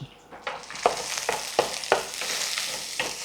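Mustard seeds, cumin, curry leaves and green chillies temper in hot oil, crackling with a steady sizzle punctuated by several sharp pops and stirring scrapes, close and fairly loud.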